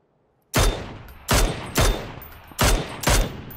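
Gunfire in the video game PUBG, five loud sharp shots in an uneven sequence after a moment of near silence, each with a short decaying tail, close and prominent with no talking.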